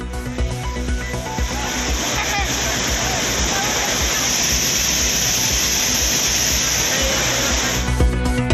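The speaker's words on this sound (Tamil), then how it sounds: "தொடர் மழையால் குற்றால அருவிகளில் கடும் வெள்ளப்பெருக்கு." Courtallam waterfalls in heavy flood after continuous rain roar steadily, a loud, close, broadband rush of pounding water that holds constant throughout, with voice faintly present underneath.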